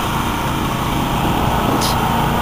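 A loud, steady tractor engine drones throughout at a mud bog, a constant mechanical roar with no pauses, close by and filling the scene.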